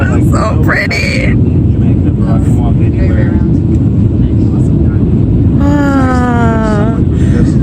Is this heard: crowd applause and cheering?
no